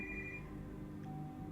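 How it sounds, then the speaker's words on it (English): A phone ringtone goes off in the Tailor Tales visual novel game, a brief electronic tone heard over soft background music. "A ringtone suddenly goes off in the room."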